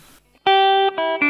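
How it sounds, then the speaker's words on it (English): A Yamaha THR5 practice amp on its lead setting gives a loud, sustained electric guitar tone with a little reverb: three ringing notes, each held before the next, after a brief quiet start. "let's go to the next one, lead sound"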